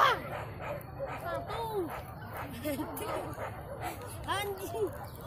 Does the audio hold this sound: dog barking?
yes